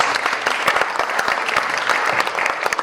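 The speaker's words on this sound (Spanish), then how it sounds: "Un aplauso." Dense, close audience applause fills a book presentation event, a steady wash of many hands clapping without pause.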